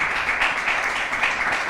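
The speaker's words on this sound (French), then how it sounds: "On applaudit." Audience applause for a correct answer at a French-language quiz show, a steady wash of clapping without a break and at moderate volume.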